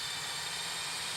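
A jet engine spinning up in an airline commercial produces a steady, loud broadband roar with a high whine, continuous and unbroken for about a second.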